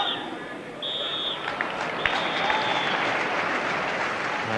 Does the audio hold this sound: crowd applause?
yes